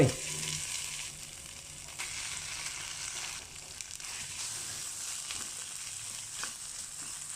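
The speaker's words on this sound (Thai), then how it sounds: "เอาละผัดกะปิพอหอมทีนี้ก็ตักั่วนผสมที่ตำไว้ใส่ลง" Shrimp paste sizzles steadily in a coated pan, then pounded chili paste ingredients are stirred in. The hiss of frying runs continuously and fairly close, with faint stirring scrapes.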